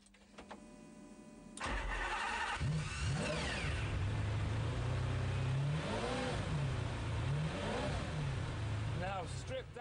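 A Ferrari Enzo race car, a stripped-down racing model with carbon-fibre panels, starts up and then revs loudly in repeated rising and falling bursts over a steady idle, close by.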